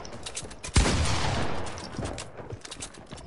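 Gunfire in Fortnite, including a pump shotgun, with one sharp, loud shot followed by a long ringing decay and fainter shots and game sounds after it.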